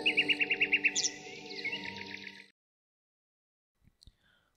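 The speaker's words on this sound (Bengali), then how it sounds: "আর এখন চারপাশে কেবল পাখিদের ফিরে যাওয়ার শব্দ।" Birds in a cartoon village at dusk give a quick run of bright, rhythmic chirps and then warbling calls, all clear and close. Silence follows, broken by a couple of faint clicks.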